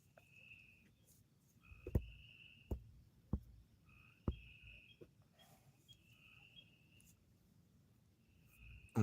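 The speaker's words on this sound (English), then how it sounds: "It was just the frogs going." Pulsing nighttime calls repeat steadily at a distance, a chorus of frogs croaking with a few sharp knocks and low rumble underneath.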